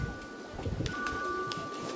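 Racing pigeons coo softly in a loft, a few low murmuring calls at a quiet distance, with faint chirps and light rustling around them.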